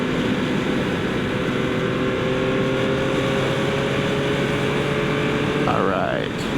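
A 2025 Yamaha MT-09 SP motorcycle cruises at steady speed, its engine droning with a constant hum and wind noise throughout, with a brief rising shift in pitch near the end.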